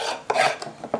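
Short rasping scrapes of wax being cleared off a wooden beehive frame, a few quick strokes close up and moderately loud, with no voices.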